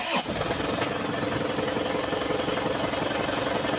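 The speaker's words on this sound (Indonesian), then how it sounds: "ini mesin udah kita starter" An Isuzu Panther 2.5 turbo diesel engine from 2010 starts with a brief crank and then runs at a loud, steady, rattling idle close by.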